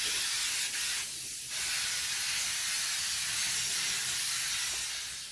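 Compressed-air spray gun applying a coat of varnish, giving a steady, loud, continuous hiss of atomizing air and finish that runs almost unbroken, with a brief dip partway through, and no talking.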